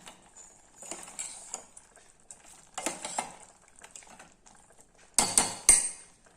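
Metal pot clanks and scrapes as it is lifted off a home stove after cooking sambar, with soft clinks of utensils, then a sharper louder rattle of cookware near the end; no talking.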